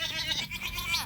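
Goats and sheep bleating on a small farm, a couple of wavering bleats in close succession, fairly near, with a hint of background voice.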